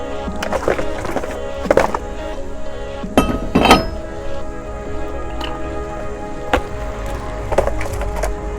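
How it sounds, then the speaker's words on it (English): Brake rotor being taken off a car during a DIY brake job, heard as a series of metallic clinks, knocks and scraping clatters, close and fairly loud. "Take the rotor off."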